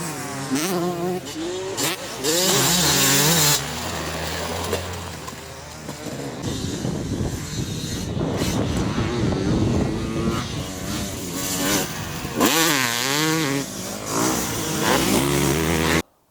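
A Fantic 2-stroke motocross bike, a 2023 125 or 250, revs hard around a dirt track, its crisp rising and falling engine note shifting through gears, sometimes near and loud, sometimes easing off, with no talking.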